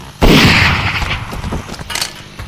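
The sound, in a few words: gunfire from a weapon in the VR video game Blood Trail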